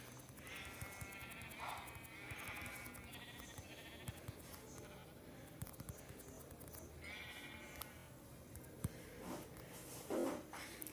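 Sheep in the video game Minecraft bleat several times, short wavering calls spread across a quiet, crackly background, with faint footstep-like taps and no clear speech.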